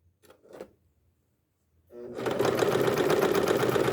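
Sewing machine stitching around a traced line on fabric for a pot holder, starting after two brief soft clicks and then running loud and steady for about two seconds, close up.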